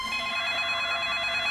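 A telephone rings in a short steady burst, a continuous electronic trill held at moderate volume with no voices over it.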